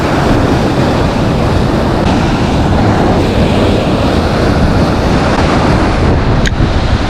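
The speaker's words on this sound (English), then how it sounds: "careful of these waves, they come right up." Ocean waves crash and wash continuously against a rocky Irish shoreline, a loud, steady roar of surf with gusting wind buffeting the microphone and no voices.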